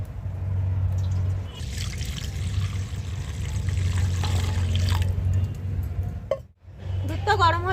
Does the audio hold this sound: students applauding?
no